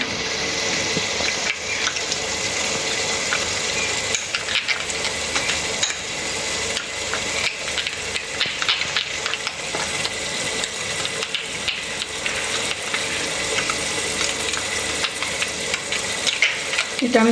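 Biryani masala and milk powder stirred into water, a steady wet swishing and clinking of mixing that runs continuously and fairly close, with no one talking.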